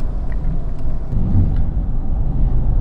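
Toyota Prado 150 with a 3.0L diesel engine accelerating, a steady deep rumbling drone that holds loud and close throughout, with no voices.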